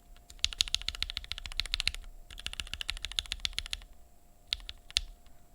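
A mechanical keyboard with lubed and filmed linear switches is typed on in fast close bursts of crisp, even clacks, broken by short pauses, with no voices.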